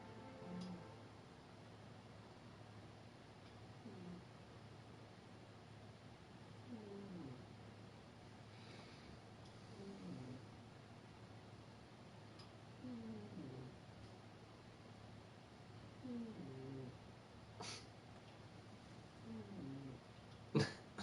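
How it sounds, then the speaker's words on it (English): A cat snoring softly indoors, faint irregular breaths and small snorts over a steady background hum, with a couple of sharper sounds near the end. "That's my cat snoring."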